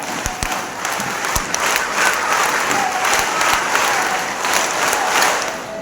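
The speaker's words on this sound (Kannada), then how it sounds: "ನಾವೆಲ್ಲರೂ ಗೆಲುವಿನ ಚಪ್ಪಾಳೆ ಹಾಕೋಣ." Audience applause at a ceremony honouring a revered religious figure at a Dharmasthala gathering of people who have given up alcohol; loud, sustained clapping from a large crowd, with a few sharper claps standing out near the start.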